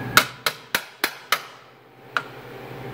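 Someone hammers a bushing down into metal tubing for a pipeline flange bolt shield. Six sharp, ringing metallic strikes land close by: five at a steady rhythm, then a pause and one final blow.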